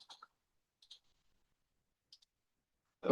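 Several crisp mouse clicks, faint and isolated against near silence, as a plus button is pressed in a Python run configuration window, followed by a brief louder noise at the end.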